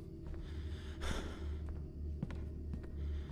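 Heavy, audible breathing from a character in the horror video game Madison, a few sighing and gasping breaths over a low, steady game ambience with an occasional soft thud.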